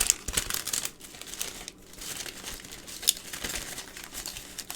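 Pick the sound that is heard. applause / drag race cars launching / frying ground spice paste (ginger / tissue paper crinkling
tissue paper crinkling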